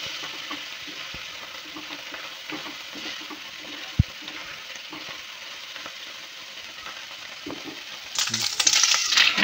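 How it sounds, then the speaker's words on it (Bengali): Shrimp fry in a pan with a continuous sizzle and occasional light clicks of utensils. A single sharp knock comes partway through, and the sizzling turns louder and harsher near the end. No one speaks. "আর এদিকে আপনার চিংড়ি মাছটা একটা ভাজা ভাজা হয়ে এসছে।"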